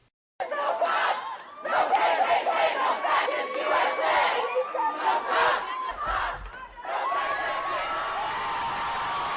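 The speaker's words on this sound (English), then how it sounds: "destroying the monument, and then cheering like they've done something grand and glorious" Protesters shouting and cheering as they topple a Confederate soldiers' monument, a loud crowd roar of yells and whoops in surging waves with chatter between.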